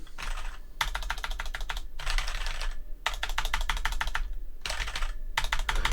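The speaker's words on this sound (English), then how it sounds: "they're just typing the one word over and over and over again" Rapid bursts of computer keyboard typing, several quick flurries separated by short pauses, close and clear over a low hum.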